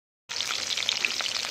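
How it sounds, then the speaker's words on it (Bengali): Bhetki fish pieces dropped into hot oil in a kadai, bursting into a sudden bright, crackling sizzle that continues steadily and close up. "এবার ভেটকি মাছগুলোকে ভাজা করে নিচ্ছি।"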